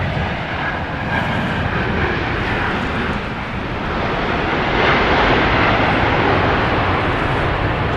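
An airliner taking off from runway 31 left at Dallas Love Field, a steady, loud broadband jet roar that holds for the whole stretch and swells slightly toward the end.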